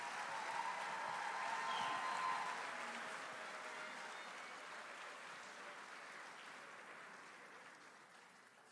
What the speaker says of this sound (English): Ladies and gentlemen, one last round of applause for our Bronze Honors Award winners.